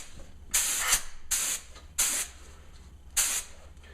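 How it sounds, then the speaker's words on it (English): A spray gun spraying clear coat on kitchen cabinet edges hisses in four short bursts, each about half a second long with brief pauses between, close and fairly loud. "Spray your edges."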